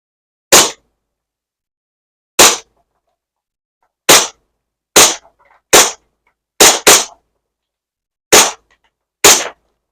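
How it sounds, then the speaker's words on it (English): SAR9 gas blowback airsoft pistol fired at targets outdoors, with nine sharp, loud cracks spaced irregularly about a second apart, two of them in quick succession, with silence between shots. "All right, so we're going to shoot some more for accuracy."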